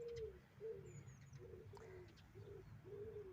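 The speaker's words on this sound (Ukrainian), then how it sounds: "Співають голуби." Pigeons coo softly in repeated low, rounded calls, with a faint bird chirp and steady low background rumble.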